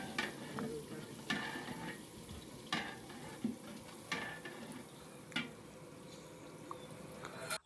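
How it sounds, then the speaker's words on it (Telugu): Tempering seeds, with asafoetida, sizzle steadily in hot oil for a catering-style sambar while a spoon stirs them, giving regular scraping strokes every second or so over the constant close frying hiss. "దాని తర్వాత పోపు గింజలన్నీ కలపడం జరిగింది"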